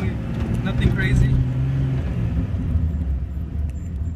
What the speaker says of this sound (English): I'll do a quick launch right now on turbo. Just a little launch, nothing crazy.